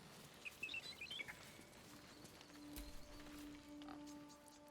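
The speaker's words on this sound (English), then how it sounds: "The birds? They're beautiful." Faint birds chirp and tweet in short bright bursts within a quiet ambient scene in Baldur's Gate 3, set against a low steady hum and soft background noise.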